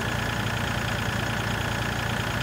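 A tractor engine idles in Farming Simulator 2013, a steady, dense mechanical drone with a fast low pulse that holds evenly throughout without voices.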